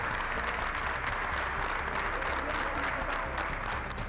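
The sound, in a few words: hospital staff applauding in tribute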